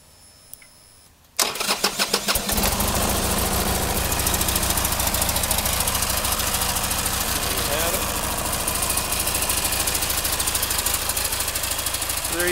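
A Buell sport touring motorcycle with a carbon fiber tank cranks and fires up, then settles into a loud, steady, slightly lumpy idle close by that runs the length of the recording.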